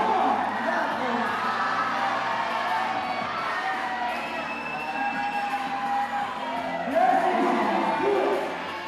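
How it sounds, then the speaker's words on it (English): Spectators cheer and whoop for a climber at the Yank-N-Yard 2019 bouldering finals, a sustained crowd roar with shouts and hoots that swells again near the end, with commentary voices mixed in. "Getting the crowd psyched."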